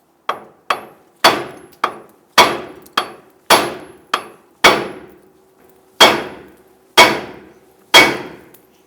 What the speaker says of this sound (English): use our hammer and strike the knuckle right here